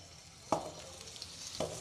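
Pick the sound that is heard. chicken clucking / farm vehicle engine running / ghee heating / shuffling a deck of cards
ghee heating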